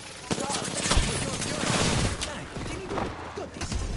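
Enemy gunfire in an Apex Legends match as a dense, continuous rattle of automatic shots with muffled bursts and impacts, loud and close throughout, with voice activity mixed underneath.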